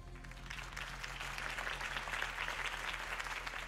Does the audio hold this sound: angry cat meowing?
no